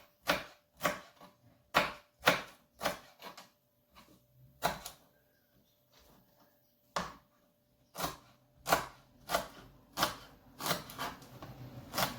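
Garlic is chopped with a knife on a board in irregular bursts of sharp, close taps, with a pause partway through before the rapid chopping resumes.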